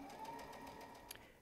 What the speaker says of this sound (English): we'll head to the sewing machine and we'll attach 1/4 inch presser foot to the machine and we'll stitch